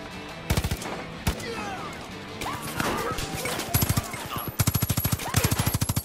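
Machine gun fire in Far Cry 5 on PS4 Pro, loud rapid bursts of automatic shots in several volleys with chaotic game effects between them, heaviest toward the end.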